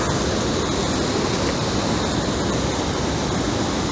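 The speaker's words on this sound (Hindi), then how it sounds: "छोटे छोटे झरने हैं जो सब आगे इसी में मिल रहे हैं" Small waterfalls along a mountain road in Uttarakhand give a steady, dense roar of rushing water, loud and unbroken throughout with no voices.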